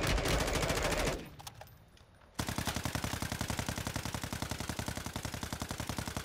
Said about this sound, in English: Oh my god, a different team shooting me?